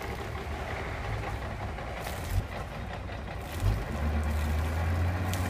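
Trawler boat engine running with the propeller put in gear, a steady low diesel rumble with a couple of brief thumps and a deeper droning note rising toward the end.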